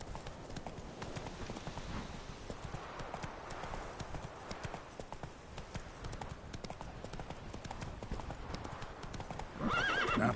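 Roach, a horse in The Witcher 3, gallops with a fast, continuous drumming of hooves close by, ending in a loud whinny near the finish.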